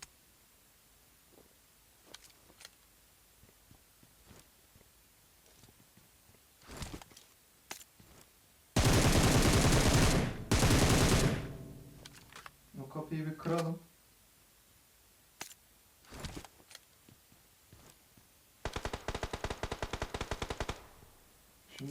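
Automatic gunfire in the PUBG Mobile video game, played on a Redmi Note 10S: scattered single shots, then two loud sustained bursts and a later rapid volley, with players talking in between.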